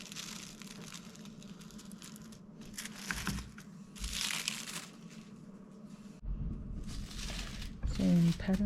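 Paper sewing pattern for a men's shirt being cut: crinkling and rustling of thin paper with snipping and crunching bursts, close by, while a person speaks between the sounds.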